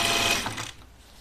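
A sewing machine stitching apron fabric, a quick burst of rapid mechanical whirring that runs for under a second and then stops, close and moderately loud with no talking.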